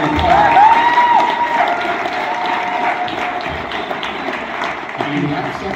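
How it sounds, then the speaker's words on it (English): An awards ceremony audience applauds steadily for several seconds, the clapping loud and close at first and easing off, with a voice partly audible underneath. "If you want to stand up and I'll give you a round of applause."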